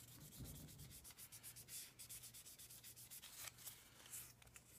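A bone guitar nut is sanded by hand in quick, regular back-and-forth strokes, a faint, close rasping rhythm with a low hum underneath.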